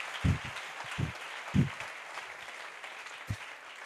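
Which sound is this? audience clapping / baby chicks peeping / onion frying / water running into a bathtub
audience clapping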